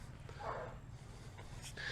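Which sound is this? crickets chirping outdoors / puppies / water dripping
puppies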